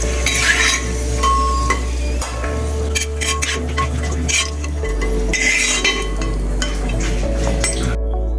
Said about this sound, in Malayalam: ഈ അണ്ടിപ്പരിപ്പ് കൂടി ഇട്ട് വറുത്ത് കൊടുക്കും